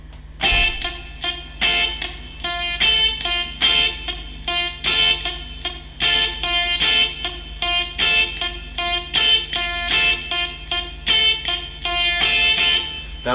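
Acoustic guitar chords strummed in a repeating downstroke pattern with accented strokes for a song, bright and close, played alone at a steady pulse.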